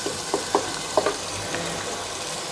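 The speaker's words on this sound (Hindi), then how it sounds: "तो हम 5 मिनट के लिए गोश्त की खूब अच्छी तरह भुनाई करेंगे" Boneless beef sizzles in a karahi, a steady loud frying hiss broken by a few quick scraping stirs, with no talking.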